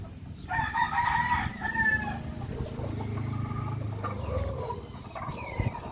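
A two-month-old Rhode Island rooster crows loudly nearby, a strained cock-a-doodle-doo, while other chickens cluck and murmur around it.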